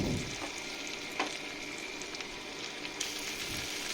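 Browned onions frying in a pan as spices are added, a low, even sizzle with a couple of brief clatters from stirring or adding ingredients, heard alone without talk.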